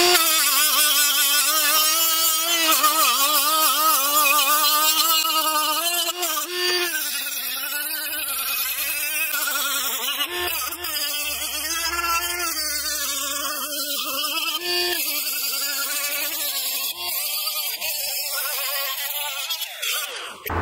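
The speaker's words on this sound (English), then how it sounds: "what I'll be using to remove the old gasket maker on there is a Scotch-Brite pad from 3M, the green pad, on my die grinder" A die grinder fitted with a green 3M Scotch-Brite pad scrubs old gasket maker off a Briggs & Stratton OHV engine valve cover, giving a loud, steady high-pitched whine that wavers slightly as the pad presses and eases on the metal.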